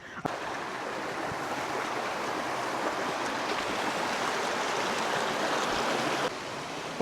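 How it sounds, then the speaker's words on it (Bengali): A hill waterfall in Sylhet, near the Meghalaya border, sends out a continuous loud roar of falling water. The rush stays steady and close from start to finish, easing slightly at the very end. "অসাধারণ একটা ঝর্ণা ভাই অসাধারণ একটা ঝর্ণা"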